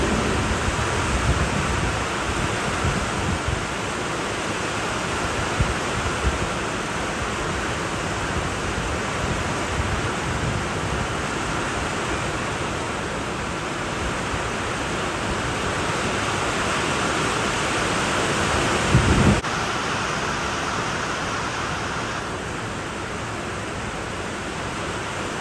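Torrential rain pours down at a football ground, a dense, steady hiss that fills the whole stretch without letup, loud and close.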